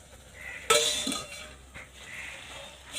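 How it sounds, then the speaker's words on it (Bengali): A metal pot lid lifted off a pan of cooking tomato chutney gives one sharp clink close by, then a quieter rattle against the rim, with no talking. "এবার আমি ঢাকাটা খুলব।"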